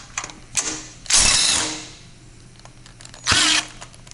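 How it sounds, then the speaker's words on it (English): Ratchet wrench loosening 2 3/4-inch deep bolts on a lift's back bracket, heard as a few short clicking bursts with two louder ratcheting spells, close and with no talk. "you disconnect the 2 3/4-inch deep bolts that are connecting the top left side"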